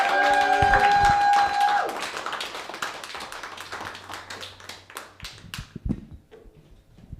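An audience applauds to welcome a speaker to the stage, with loud clapping at first that thins into scattered claps and fades toward the end.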